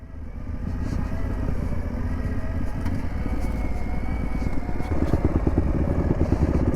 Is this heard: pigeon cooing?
no